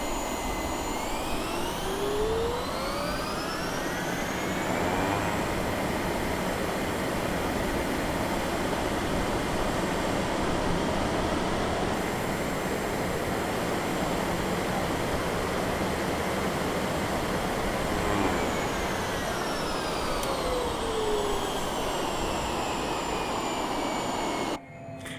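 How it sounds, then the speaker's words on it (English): Boeing 707 jet engines in Microsoft Flight Simulator roar loudly and steadily, with rising and falling whining tones sweeping through pitch ranges over a dense broadband rumble, no talking. "It sounds like the engines go through like there's a certain pitch range where they go through like a farting noise."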